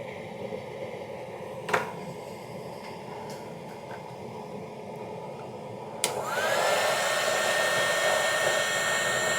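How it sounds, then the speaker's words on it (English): A heat gun blows a steady, fairly loud airy rush while shrinking insulating heat shrink onto wires, with a sharp click near the start and the airflow stepping up louder after a second switch click partway through, with no voices. "Then we apply a first layer of insulating heat shrink."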